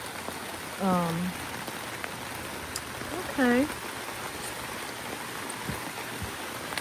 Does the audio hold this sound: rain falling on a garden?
yes